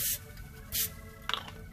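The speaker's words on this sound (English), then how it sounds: "we're gonna give this just a quick little spray" Two short hissing bursts of an aerosol cooking spray, close up, followed by a faint scrape or clatter.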